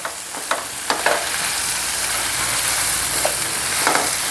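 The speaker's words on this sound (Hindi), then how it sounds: "हें आतां मातशें मिडियम फ्लेमीचेर तुमी फ्राय करपाचो" Chicken frying with coriander in a pan over a medium flame for a Goan fried chicken dish, a loud continuous sizzle with a few sharper scrapes and clicks as the pieces are stirred, close up.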